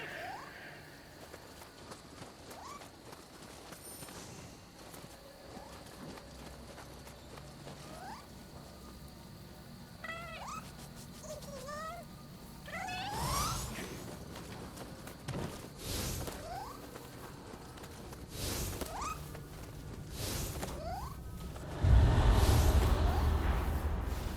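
A cat in the video game Nioh 2 meows several times in short rising calls while rubbing against legs, set among soft pattering steps and ambient game sounds, ending in a louder low thump.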